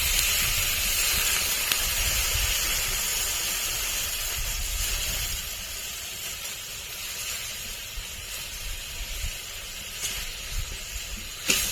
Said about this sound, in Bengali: এবার দিয়ে দেব জিরে বাটা, শুকনো লঙ্কা বাটা, মশলা ধোয়া জল দিয়ে দেব।